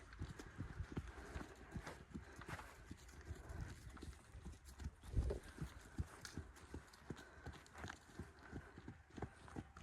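Horse hooves trotting on a lunge line over poles in a steady, even clip-clop rhythm, soft and somewhat distant.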